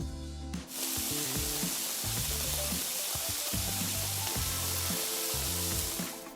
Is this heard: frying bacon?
yes